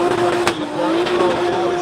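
A Nissan S15 drift car slowing under left-foot braking on a track, its engine note droning with a brief sharp tire chirp, over a background of crowd and commentary voices.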